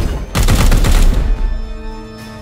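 A burst of heavy gunfire in Warhammer 40,000: Chaos Gate – Daemonhunters, loud rapid shots for about a second that fade into ringing, echoing decay with a faint tonal hum.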